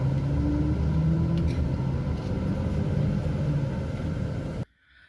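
A bus engine rumbles steadily as it drives a mountain road toward Mount Sinai, a loud continuous drone heard from inside that cuts off abruptly near the end.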